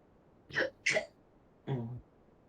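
Three short, sharp bursts from a woman, two quick ones close together and then a longer final one after a pause, heard close up in a quiet room, coughing or sneezing.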